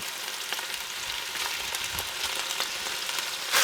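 Beef stew meat browning in a large Dutch oven, a close, steady hiss and crackle of searing with small scrapes, swelling louder at the very end.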